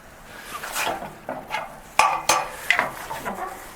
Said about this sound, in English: Simply pull the cotter pin out.